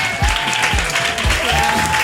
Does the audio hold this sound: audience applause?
yes